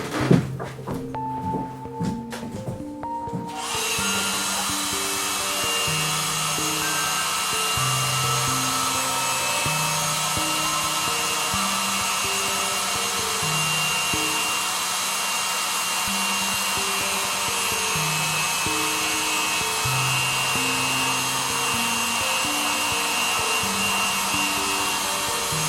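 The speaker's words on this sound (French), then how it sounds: "vous allez entendre le sèche-cheveux" A hair dryer blows over watercolor paper, a loud, steady whooshing roar that runs unbroken for most of the stretch, with soft melodic music beneath it.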